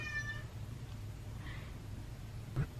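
A house cat meows indoors, a few short, fairly soft calls spaced apart over a low background hum, with one sharper call near the end.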